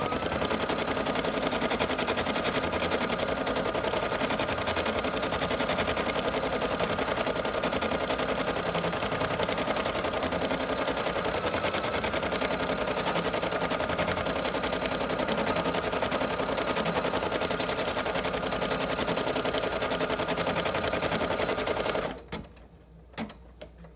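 An embroidery machine runs a feltie placement stitch, a fast, steady mechanical rattle of needle strokes that continues evenly for about twenty seconds at close range before stopping abruptly.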